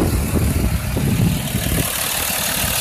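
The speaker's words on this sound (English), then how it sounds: "let's go back to the engine so you can hear it hum along" A 2004 Dodge Ram 2500 5.9L diesel truck engine idles with a steady, loud, low rumbling hum and no other sounds.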